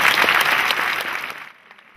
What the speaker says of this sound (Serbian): a vas zamoliti za još jedan aplauz za Milorada Mandića Mandu.